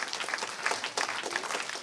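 Audience applause at a French-language horticulture colloquium panel, a steady patter of many hands clapping for about two seconds, moderately loud and without talk.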